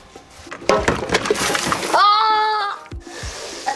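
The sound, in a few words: water splashing while washing a bucket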